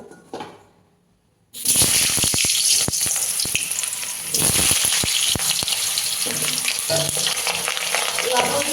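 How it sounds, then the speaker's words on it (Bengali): After a brief quiet moment, a loud burst of sizzling erupts as potatoes hit hot mustard oil in a kadai, then keeps crackling and spitting steadily. "কড়াইতে সর্ষের তেল দিয়েছি তেলটা গরম করে নিয়েছি আর এবার আলুগুলো ভেজে নেবো"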